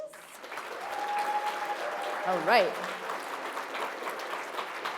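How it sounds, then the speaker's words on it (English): At a student awards dinner, the audience applauds the nominees with moderate, steady clapping across the room, while a voice speaks briefly over it and a whistle-like tone rises in the middle. "Please give a round of applause for all of our nominees."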